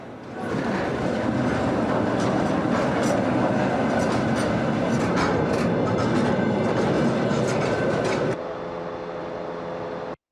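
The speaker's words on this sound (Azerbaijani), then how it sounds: "Abşeron Logistika Mərkəzindən 20 konteynerdən ibarət ilk yük qatarı Gürcüstan" A freight train of 20 containers leaves the Absheron Logistics Centre on the Baku-Tbilisi-Kars railway, with a steady loud rumble and rhythmic wheel clatter close by that drops off sharply near the end.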